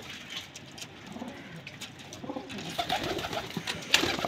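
Pigeons in a loft of long-flying breeds, including a female with a faint green tint, coo softly and intermittently with light rustling, faint at first and growing somewhat louder toward the end.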